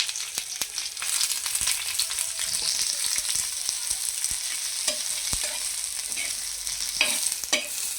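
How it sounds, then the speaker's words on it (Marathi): Chopped onion fries in hot oil in a pan, a steady close sizzle broken by frequent clicks and scrapes of a spoon stirring. "मी कांदा भाजायला टाकत आहे. कांदा आपल्याला चांगला गुलाबी रंगापर्यंत तेल टाकून भाजून घ्यायचा आहे."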